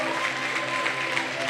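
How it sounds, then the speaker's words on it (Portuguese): A church congregation applauds together, the sustained clapping steady and fairly close through the whole moment, with a voice faintly audible beneath it. "Vamos aplaudi-los em nome do Senhor Jesus."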